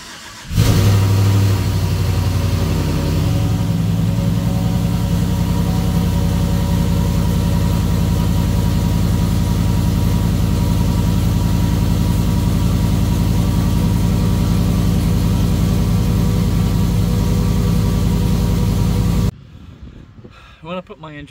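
A 2012 GMC Sierra truck engine with a new cam and DOD delete starts and settles into a loud, steady idle with a low rumble that runs for about twenty seconds before cutting off.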